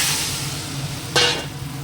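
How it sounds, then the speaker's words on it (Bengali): Steady sizzling of bitter gourd, potato and green banana sautéing in a pan, with a brief louder scrape of stirring near the middle, no voices. "সবজিটা দিয়ে দিই উচ্ছে আলু কাঁচকলা একটু কষিয়ে নেব"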